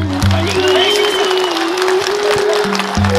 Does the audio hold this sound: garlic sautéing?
no